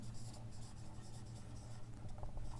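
A pen writes on paper during a maths lesson on triangles, a faint, steady scratching close by with small pen strokes toward the end.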